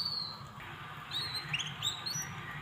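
Canaries chirp in a cage with short, high tweets and trills scattered over a low background hum, fairly faint and somewhat distant, with no talking.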